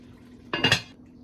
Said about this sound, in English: So now I'm adding my onions.